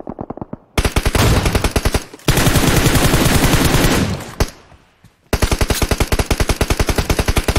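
Loud, rapid automatic gunfire from a team firefight in PUBG, with dense bursts of evenly spaced shots that pause briefly and then start again, close and harsh with no talking.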